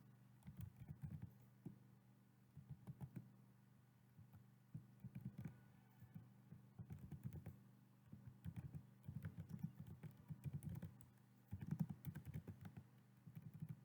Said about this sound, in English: Let me type something and show you.